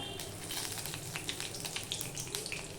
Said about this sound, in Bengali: তেলটা হয়ে গেলে আমি হাফ চামচের মতন পাঁচফোড়ন দিয়ে দিলাম দিয়ে দিলাম একটা তেজপাতা